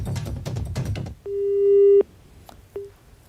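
A phone line's busy tone sounds after a live news phone call disconnects: first a crackly, noisy stretch, then one long steady beep and a second short beep after a pause.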